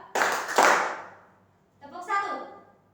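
Schoolchildren in a classroom clapping on a teacher's command, two sharp bursts of many hands close together, loud and brief, followed by a voice speaking.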